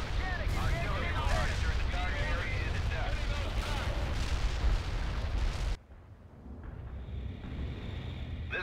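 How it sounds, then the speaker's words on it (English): Heavy artillery barrage in the video game World in Conflict: a dense, continuous roar of overlapping blasts and booms that cuts off abruptly, leaving a quieter rumbling tail. "Heavy artillery barrage inbound."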